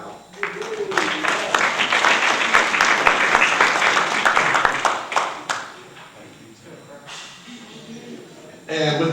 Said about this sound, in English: we all owe Ralph a huge round of applause right now